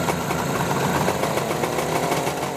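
A Suzuki GT750 two-stroke motorcycle engine idling steadily with its oil pump lever fully open, a loud close-up rattling putter with no revving or voices.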